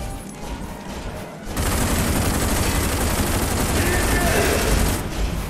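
Sustained automatic gunfire from a machine gun in the video game Rage, a quieter stretch of shooting giving way after about a second and a half to a dense, loud, continuous barrage that rattles on to the end.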